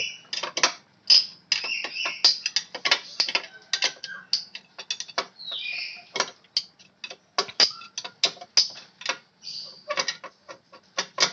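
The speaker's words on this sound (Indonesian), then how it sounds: "setelah itu kita kencangkan pakai kunci T." Scooter bolts tightened with a T-wrench during routine automatic scooter maintenance: rapid clicking ratchet strokes in irregular bursts, close and crisp, with small metallic ticks in between.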